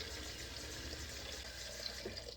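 Cold filtered tap water runs steadily into a cooking pot, making a soft, even rushing stream that stays faint and unbroken throughout.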